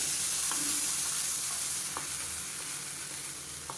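Tempered mustard seeds, cumin and dried chilies sizzle and crackle as they hit a mango buttermilk curry, a steady moderate hiss with a few sharp pops throughout.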